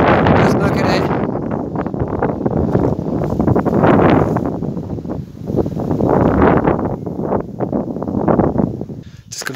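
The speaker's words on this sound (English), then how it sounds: "It's starting to rain now and get a bit windy, so I apologise for the wind" Gusty wind buffeting the microphone during light rain outdoors in Mexico City, heavy rumbling bursts rising and falling throughout, with a person speaking briefly underneath.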